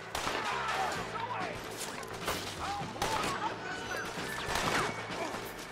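Gunfire in a Red Dead Redemption shootout at an Irish mine, rapid overlapping shots and sharp cracks with background game sound, while someone talks over it.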